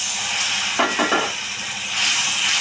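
Spice paste (masala) fries in oil with a steady, close hissing sizzle and a brief stirring scrape partway through.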